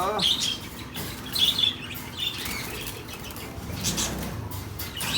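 Parakeet or lovebird chicks chirp in a nest, with soft high peeps and scratchy rustling sounds mixed with bursts of wing flutter and shuffling, fairly close and faint to moderate in level.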